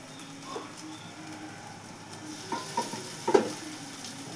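Onions and boiled potato frying in a pan, a steady sizzle with stirring scrapes and a few sharper clinks near the end.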